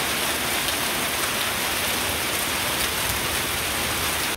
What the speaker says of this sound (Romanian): o furtună puternică, însoțită de bucăți mari de grindină